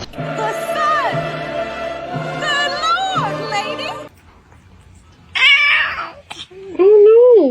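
A cat meows several times, high and wavering, with a voice talking over the start and louder meows near the end.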